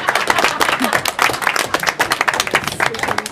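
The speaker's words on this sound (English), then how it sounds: "I think they definitely deserve some applause for all that" Applause breaks out at a Portland Board of Public Education business meeting: a dense, steady patter of many hands clapping for about three seconds, with a voice briefly audible underneath.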